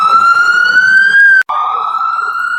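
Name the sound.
ambulance siren passing by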